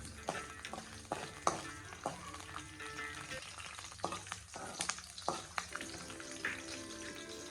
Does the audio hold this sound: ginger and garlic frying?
yes